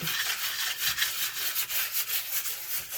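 Rapid, rhythmic scratchy rubbing of a nail file sanding a paper cover, steady back-and-forth strokes close up with no talking.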